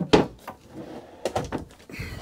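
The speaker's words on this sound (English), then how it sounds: "And then we've got another drawer here." A wooden drawer in the bedroom of a new 2025 Grand Design Lineage Series M 25FW RV slides open with a sharp knock, followed by softer sliding bumps and clatter close by.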